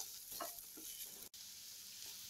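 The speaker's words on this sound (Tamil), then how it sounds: "சேர்த்துட்டு இந்த வெங்காயம் வந்து நல்லா பொன்னிறமாகிற அளவுக்கு வதக்கி எடுத்துக்கலாம்." Chopped onion sautés in a pan while soya chunk pepper fry is being made, giving a soft, quiet sizzle with a few faint stirring scrapes and one brief clack.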